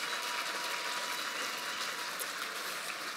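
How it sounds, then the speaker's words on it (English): Crowd at a football club awards night clapping for premiership-winning players, a distant, even wash of applause holding steadily throughout at low volume. "So a round of applause for our premiership players."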